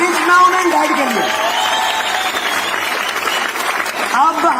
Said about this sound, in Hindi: गिव ए बिग हैंड, जोरदार तालियां रिच मॉम एंड डैड के लिए।